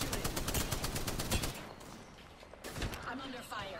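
Rapid gunfire in the battle royale game Apex Legends, a dense burst of shots for the first second and a half, then scattered shots and game effects with speech-like sounds mixed in.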